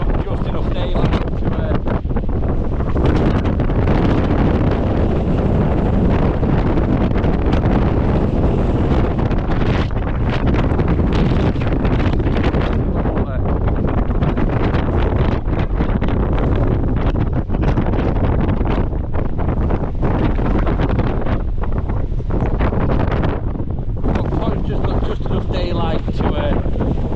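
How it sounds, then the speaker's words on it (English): Strong storm wind during Storm Agnes batters a wild camp beside Scales Tarn in the Lake District. A loud, continuous roar and buffeting of wind against the microphone runs throughout, with a voice partly buried beneath it. "I thought I'd be able to get out of the wind."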